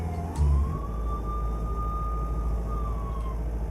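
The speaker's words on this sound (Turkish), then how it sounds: "Şu sirenleri kapatalım." Emergency vehicle sirens wail in the Euro Truck Simulator 2 video game, a long sustained tone over a steady low truck engine drone, with a short loud thump near the start.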